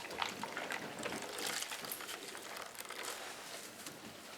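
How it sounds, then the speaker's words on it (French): A washcloth glove rinsed in a basin of water, with steady splashing, dripping and wet squelching close up, continuous throughout and no one speaking. "Donc après, vous rincez votre gant."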